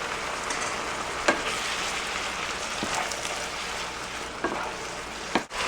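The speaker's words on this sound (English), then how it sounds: "And stir it up again." Enchilada sauce with diced tomatoes, salt and pepper sizzles steadily in a pan, a continuous close frying hiss broken by a few soft scrapes of stirring, with no voices.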